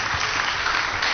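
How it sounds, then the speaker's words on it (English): A full round of applause from a church audience at a Feast of the Transfiguration service, dense and continuous clapping at a strong, even level throughout. "Give her a round of applause."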